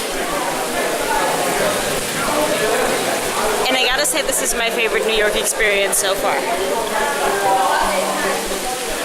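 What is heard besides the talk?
rain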